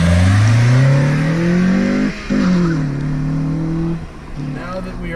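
A 2002 Honda Civic Si EP3 hatchback accelerates hard, its engine climbing in pitch through the revs, a brief drop at a gear shift, then pulling up again before easing off, loud and close from inside the car.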